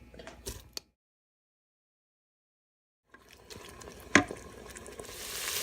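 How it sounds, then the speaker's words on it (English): Chicken soup in a pressure cooker stirred with chopped onion, brief scraping and sloshing close by, then a silent gap before more stirring resumes with liquid swishing. "I'm going to stir it up and add the chopped onion to it."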